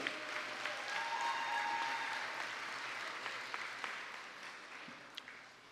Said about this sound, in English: Let's give a round of applause again to Amy Steele